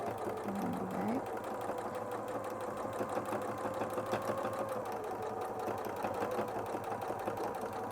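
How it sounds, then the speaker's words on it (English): A sewing machine runs steadily, stitching down the centre of a piece of fabric with a continuous even whirr and rapid needle rhythm, close by and without talk. "So I'll just stitch in the centre there."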